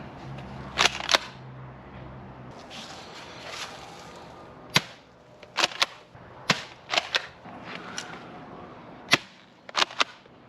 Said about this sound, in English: it shoots a small spray of salt that can obliterate these bugs